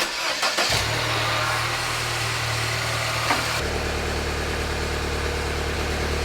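An R56 Mini Cooper fitted with a new downpipe exhaust cranks briefly, then catches and settles into a steady, loud idle, heard close up and alone for several seconds.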